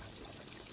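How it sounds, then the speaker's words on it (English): Water runs gently from a tap beside a calm duck being prepared, a brief, soft, steady trickle with no voices. "Got the water running a little bit because they like water, so it'll calm them down."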